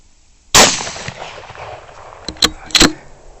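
A single sharp rifle shot cracks close during a night pig hunt. Fainter reports and thuds follow, then two more loud cracks come quickly near the end.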